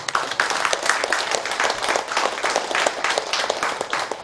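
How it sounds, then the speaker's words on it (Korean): Audience applause at a Korean rural farming event, honoring the city mayor and cooperative heads; steady dense clapping from a crowd fills the whole stretch at even loudness, with no talk over it. "이 두 분들한테 큰 박수 한번 부탁드리겠습니다"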